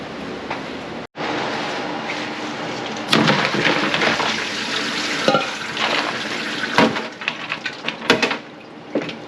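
Running water rinsing chilled bread and butter pickles and ice in a sink, a continuous splashing rush with brief bumps and clatters of the pickles being handled.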